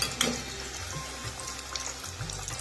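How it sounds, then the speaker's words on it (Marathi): Coriander vadi frying in hot oil, a steady broadband sizzle with faint bubbling that holds close and fairly loud throughout, no voices. "छान अशा सोनेरी रंगावरती तळून घ्यायचे"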